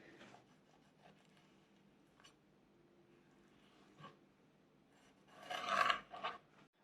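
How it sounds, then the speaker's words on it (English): A knife works along a seabass fillet, cleaning out the belly bones with soft scraping and rubbing strokes and a few faint ticks, ending in a louder close rasping scrape. "Now I'll clean this bones of the belly bones"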